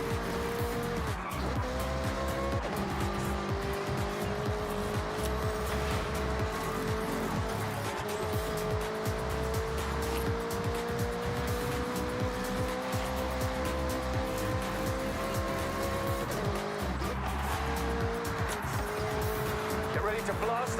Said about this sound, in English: To blast those engines.